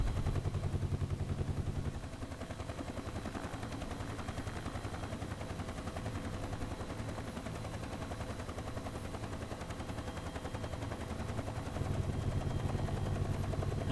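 A simulated UH-1 Huey helicopter in X-Plane 11 drones with a loud, continuous rotor and turbine roar, its rapid blade thumping steady and close throughout.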